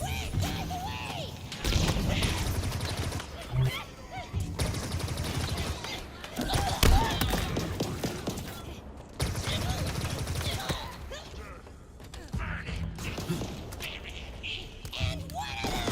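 Gunfire in the Halo Infinite campaign crackles in repeated bursts with crashes and thuds across a long, busy battle, mixed with shouted voices and game sound.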